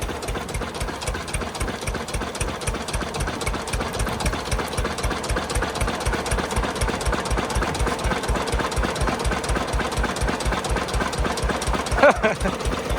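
A combine harvester engine idling close by, with a steady rapid chugging rhythm throughout and a brief clank near the end.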